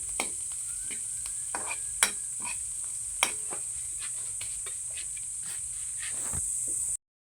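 Sardines sizzle steadily in a hot pan, a constant bright hiss broken by scattered pops and crackles, fairly close and without any talking.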